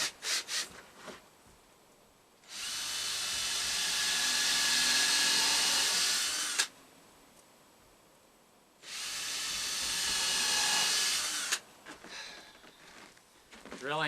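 Power drill boring into wood, two long steady bursts of whining, rasping drilling separated by a pause, with short clatters and handling noise around them.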